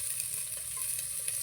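Onions fry in hot oil in a pan for palak pasta, giving a steady, bright sizzle and crackle that stays close and even throughout, with no talking.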